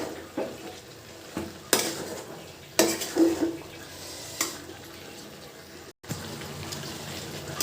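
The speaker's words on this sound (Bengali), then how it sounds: "দিয়ে দেবো টমেটো। টমেটোটি দিয়ে ভালো করে একটু কষাবো।" Tomato stir-fried in a pan of fish curry, with repeated scraping strokes of a spatula over a steady sizzle, close and fairly loud, and a short pause near the end before the stirring resumes.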